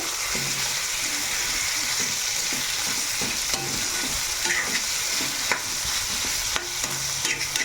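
Chicken pieces for biryani fry in a pot, producing a steady close sizzle broken by regular scraping and clinking as they are stirred.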